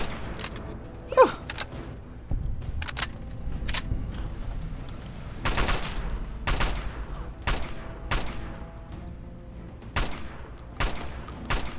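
Gunfire in Fallout: Tale of Two Wastelands, a series of sharp, distinct shots spaced irregularly, some single pot shots and some quick clusters, ringing out over a quiet background.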